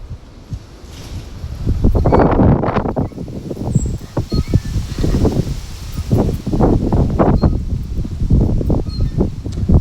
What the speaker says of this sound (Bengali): প্রচুর পরিমাণে বাতাস উঠছে